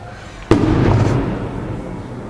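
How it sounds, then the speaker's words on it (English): A sharp firecracker bang sounds once, followed by a dense crackling burst of pops and rumble that slowly fades over the next second or two, loud and fairly close. "Firecrackers."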